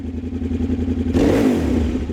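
A close adventure motorcycle engine in neutral idles with a rough, pulsing rumble, then is revved sharply once past 5,000 RPM, the pitch rising and falling back.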